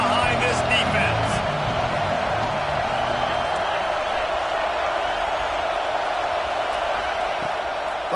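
Football stadium crowd roaring in support of the defense on a big third down, a loud, steady wash of cheering that holds throughout with no clear break.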